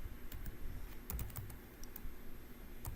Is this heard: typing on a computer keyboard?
yes